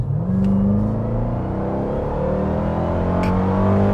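A Dodge Durango Hellcat SUV accelerates hard from inside the cabin, its engine note a loud, steady rising roar that climbs through the revs without a break.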